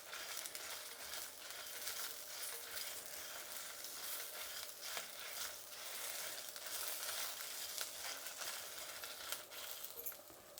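Onions, garlic and grated fresh coconut frying gently in oil on a low flame for rava idli, giving a steady, soft sizzle with faint crackles and occasional stirring throughout, close by and without talk.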